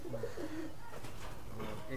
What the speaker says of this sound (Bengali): এটা নর, সবুজ, কালো সবুজ নর পায়রা